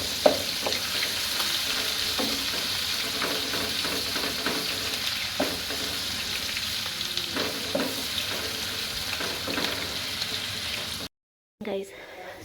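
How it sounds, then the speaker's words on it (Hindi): Oil sizzles and crackles steadily in a hot pan as a spice tempering with garlic-ginger paste is added to saag, with sharp pops scattered throughout, before a brief silence near the end. "यहाँ मैं साग को लगाने लगी हूँ तड़का"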